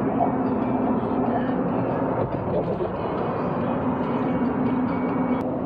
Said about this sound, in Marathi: इथे ही ट्रेन आहे, स्पर्ट सिटीमधून चाललेली आहे